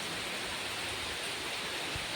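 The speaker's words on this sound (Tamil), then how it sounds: "நீங்களே பார்க்குறீங்க இப்படி மழை பெய்யுது" Heavy rain pours down steadily over forested hills, a dense, loud, unbroken hiss with no voices.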